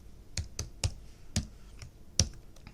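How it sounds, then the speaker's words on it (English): Typing on a computer keyboard during a math review, with a handful of soft, irregular key clicks spaced across a few seconds, close and quiet, with no one speaking. "So I'm going to come over here and type that in."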